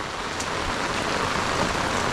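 Steady rain falls on a homestead, a dense, even hiss of drops with no pauses, close by and fairly loud, no voices.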